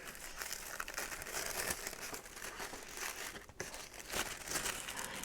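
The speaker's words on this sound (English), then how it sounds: "it looks like there's a little piece of tissue paper" Tissue paper crinkles and rustles close up as it is unwrapped from a planner box, with continuous soft crumpling and a few sharper crackles.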